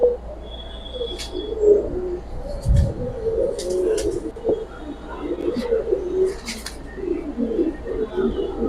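Giribaz pigeons coo in soft, low, repeated calls close by, with thin chirps and rustling over steady background noise.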